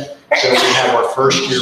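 A sneeze or cough bursts out during an academic standards committee meeting, a loud, close sound followed by a second one, with a person speaking over it.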